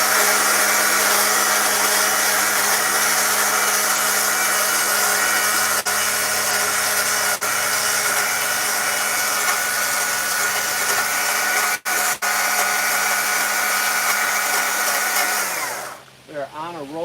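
A chainsaw cutting wood during chainsaw carving outdoors, a loud continuous high-pitched whine held steady for a long stretch before dropping off abruptly near the end.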